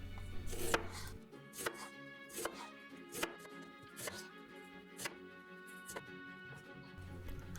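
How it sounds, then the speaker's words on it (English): A knife slices a daikon radish thinly for kimchi, with close, crisp chopping thuds on a board landing in a steady, even rhythm. "I'm just going to slice it in half, then I'm going to slice the radish thinly"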